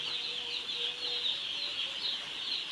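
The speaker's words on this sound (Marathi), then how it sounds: "तर आज आलेत पक्षी" Newly arrived poultry birds make a dense, continuous chorus of high calls and clucks. The sound is fairly near and unbroken, with no talking.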